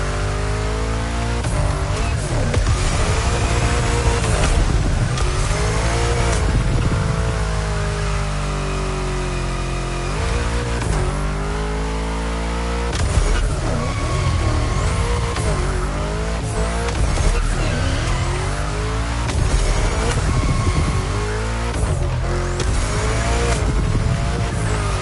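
Racing car engine in The Crew Motorfest, set in Hawaii, revving hard and steadily with repeated tire squeals and skids through turns, loud and continuous over background music.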